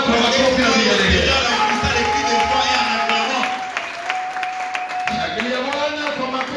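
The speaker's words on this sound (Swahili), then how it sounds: "Shangilia Bwana kwa makofi na vigelegele" A church congregation claps and ululates in praise, a dense roomy wash of applause with high trilling voices riding over it, and a voice talking on top throughout.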